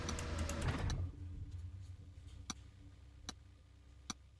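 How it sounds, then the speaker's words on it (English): A turn indicator ticks in a racing simulator game: three sharp, evenly spaced clicks that stand out after a louder burst of engine noise fades into a quiet hum. "Why have I got indicator sounds?"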